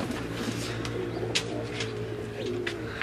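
Teddy pigeons, a pure breed, coo softly in low repeated calls close by, with a few sharper clicks and scuffs over a constant background hum.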